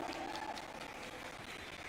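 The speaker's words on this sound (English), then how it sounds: "I thought I'll have a round of applause for that" Audience at a TVS Apache RTR 310 motorcycle launch event giving a steady round of applause, a soft continuous patter of many hands heard from a distance.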